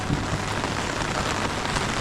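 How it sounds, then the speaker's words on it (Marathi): Steady rain falls outdoors in rural Konkan during a monsoon-season engagement ceremony, a dense, even hiss that holds constant throughout with no talk over it. "पाऊस आला आहे बघा साखरपुड्यासाठी पाऊस आला आहे"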